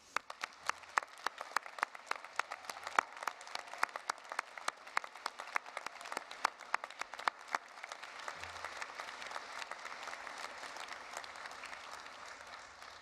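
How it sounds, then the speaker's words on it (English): Graduates at a Flinders University nursing and health sciences graduation ceremony are applauded by the audience in a long, even run of clapping that sounds distant and fairly soft, with individual claps standing out in the wash. "I invite you all to share your appreciation for all of their achievements by applauding their"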